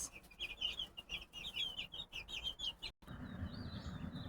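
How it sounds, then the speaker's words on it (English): Chickens cluck and chirp in quick, fairly faint bursts, followed by a low rumbling background after a short break. "Look at all the chickens."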